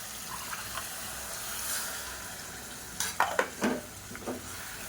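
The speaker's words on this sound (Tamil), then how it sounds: "நல்லா கலந்து விட்டுட்டு" A spoon stirs kasakasa curry with drumstick and potato in a cooker. A soft simmering hiss comes first, then several close, wet scraping and sloshing strokes near the end.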